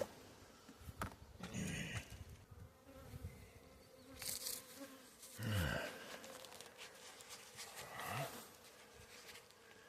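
Honeybees buzz around an open, crowded hive during a queen check, a steady hum with a few louder passes as bees fly near, along with soft handling noises.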